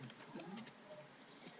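Quiet, rapid typing on a computer keyboard, a string of soft key clicks at an uneven rhythm, with no voices.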